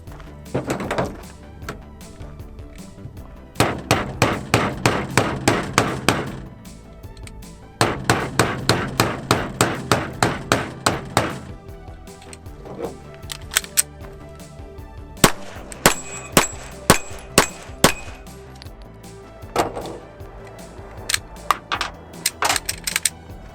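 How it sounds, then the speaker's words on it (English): Hammer driving nails, small ones first and then a bigger one, heard as three long runs of sharp, loud, evenly spaced blows, each run a dozen or so strikes, with short pauses between runs. "we have some nails to nail down"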